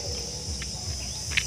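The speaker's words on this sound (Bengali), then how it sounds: "ঝিঝি পোকার ডাক ঝিঝি পোকার ডাক" Crickets chirp near paddy fields, a steady high shrill trill running throughout with a faint low pulsing hum beneath, continuous and moderately loud.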